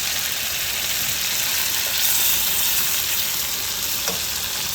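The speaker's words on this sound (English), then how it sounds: "Then I'm going to add my butter, full stick of butter." A full stick of butter sizzling as it melts in a hot pan for a restaurant-style red snapper meal: a loud, steady, close crackling hiss throughout, with no talk.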